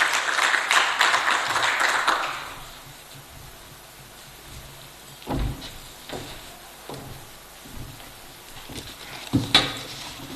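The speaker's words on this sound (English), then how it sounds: "Ladies and gentlemen, give him a round of applause as he comes on stage." Audience applause greets a speaker walking onto an event stage: a dense, loud burst of clapping for the first two seconds or so, fading quickly into a quieter room with a few scattered knocks and shuffles.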